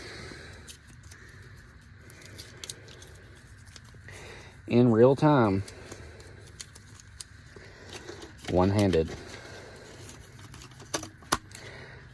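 A TOPDON BT300P battery tester's built-in printer gets a fresh paper roll, with two short whirring motor feeds amid light plastic clicks and handling, while a person talks throughout.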